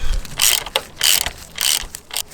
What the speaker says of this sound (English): Now we retight this hex 6 on the top